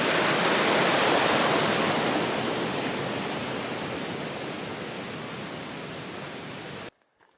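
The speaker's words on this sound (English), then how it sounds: "Plenty of water out here. North Willow Creek." Steady rushing creek water streams past nearby on a mountain trail, a full, even babble that drops away suddenly at the end.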